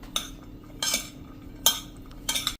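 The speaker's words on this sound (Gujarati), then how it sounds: "અને હવે આને સેજ આપણે ઊંચા નીચું કરી મિક્સ કરી લેશું" A green-peanut bhel with onion and potato pieces is tossed and mixed in a bowl with a spoon: four short bursts of scraping and light clinking separated by brief pauses, close and fairly quiet, without speech.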